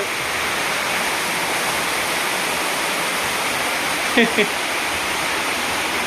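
Rainwater pouring in through a tin roof makes a constant, loud rush of falling water, steady for the whole stretch, with one brief knock near the end.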